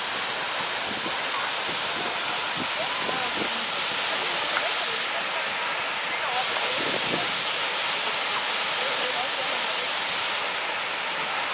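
Skogafoss waterfall in Iceland roars with a constant, dense rush of falling water close by, with faint wind buffeting and a few brief distant voices.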